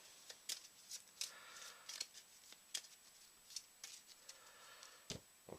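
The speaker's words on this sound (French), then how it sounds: "Que je remélange à mon deck d'action." Ten fish cards from the 7th Continent board game are shuffled back into an action deck, giving soft, close riffling and sliding card rasps in quick irregular bursts, faint and alone.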